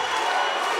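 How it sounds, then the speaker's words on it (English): Crowd at a Chris Dempsey vs. Muhammad Abdullah MMA fight (GOTC MMA 9) roars and cheers in a loud, steady, dense wash of voices with no breaks. "Crowd is going nuts here for Dempsey."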